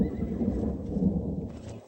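A horse gives a drawn-out neigh, a close, fairly loud whinny lasting nearly two seconds before trailing off, with no speech over it.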